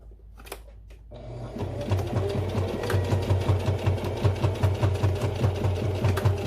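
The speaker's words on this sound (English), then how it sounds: "Now we're going to sew 1/4 of an inch across" A sewing machine runs steadily, stitching a quarter-inch seam across fabric for a small pouch, its fast needle rhythm starting after a brief pause and continuing close and even.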